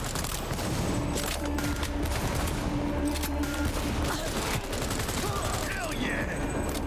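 Bursts of gunfire from a firefight in the video game Cyberpunk, sustained and loud, with rapid shots and booms layered over a dense game soundtrack.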